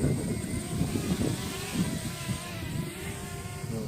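A Blade 200QX quadcopter on an MR200 chassis with stock props and a 1300mAh battery buzzes steadily outdoors in picking-up wind as it comes in to land, with a thin high motor whine over a rough low rumble.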